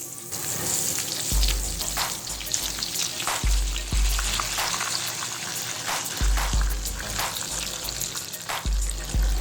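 Crumbed chicken wings fry in oil on a low flame with a continuous bubbling sizzle, broken by repeated low thumps and knocks as pieces go in and shift in the pan.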